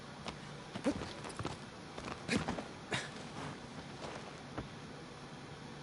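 Hooves of Agro the horse clip-clopping in Shadow of the Colossus, a light, irregular patter of steps over a faint hiss of background ambience.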